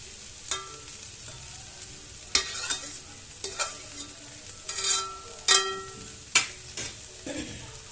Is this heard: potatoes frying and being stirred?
yes